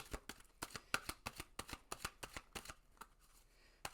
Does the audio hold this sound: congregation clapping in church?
no